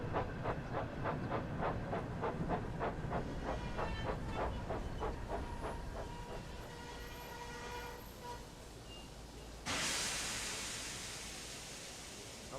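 Steam locomotive in Train Sim World 5 chugging steadily with rhythmic exhaust beats that fade, then a sudden loud burst of hissing steam near the end, all close and without talk.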